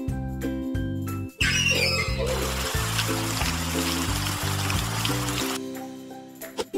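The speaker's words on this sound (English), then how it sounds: "Now fill the can with water." Water splashing and trickling into a watering can in a baby care video game for kids, a bright splashy burst over a bouncy looping game melody that plays throughout.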